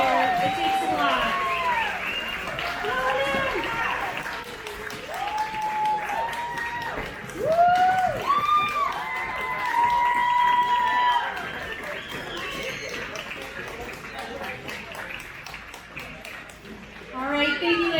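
An audience applauds pin-up contest contestants at a car show, steady crowd clapping and cheering throughout, mixed with an announcer's amplified voice and chatter.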